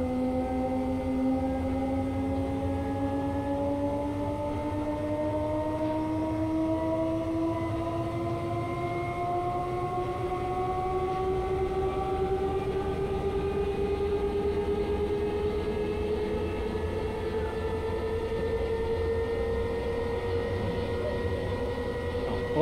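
An E464 locomotive hauling Intercity coaches in Train Simulator Classic drones steadily as its motor whine rises slowly in pitch while the train gains speed, under a constant rolling rumble with no talk.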